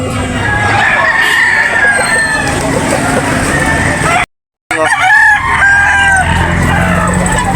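A large five-year-old rooster crows loudly nearby amid a busy, noisy Saturday morning poultry market, with a brief silent gap midway before the commotion resumes.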